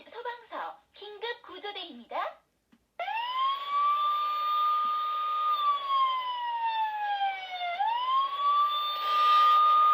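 Police and fire engine siren effects from a karaoke tray toy: after some talk, a loud electronic wail rises and falls steadily for several seconds, then sweeps back up with a scraping edge near the end.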